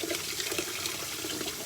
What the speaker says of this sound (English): run that cold water underneath it